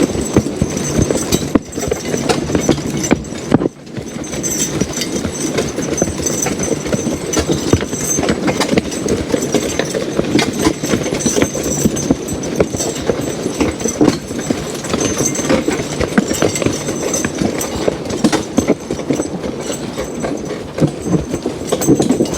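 Draft horses drag a huge log through an Adirondack forest with steady, close hoof clip-clops and a continuous scraping, rumbling drag, with occasional brief handling knocks.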